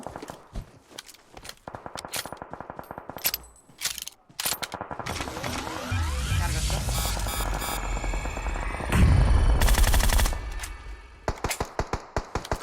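Gunfire in PUBG Mobile: scattered single shots and short bursts, some close and sharp, others distant, mixed with game effects and a louder rumbling stretch near the end.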